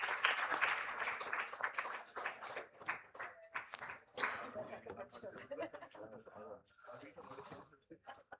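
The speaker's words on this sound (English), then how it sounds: "A big round of applause once again" An audience at a hypertension day medical event applauds in scattered, irregular claps that rise and fade, mixed with a speaker talking over them.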